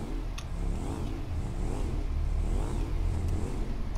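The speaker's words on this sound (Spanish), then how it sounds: "el señor Código ya está intentando volar con la moto" A motorcycle engine in the GTA V video game revs hard and steadily, its pitch rising and falling in repeated surges, loud and continuous with no voices over it.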